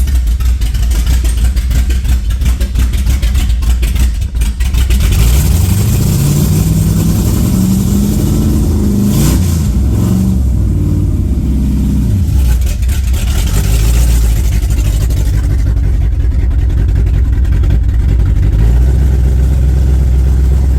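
A Ford 302 V8 fitted with Holley Sniper 2 fuel injection runs loudly and roughly up close, idling with a deep rumble and then revving in rising and falling swells before settling back into a steady, heavy drone.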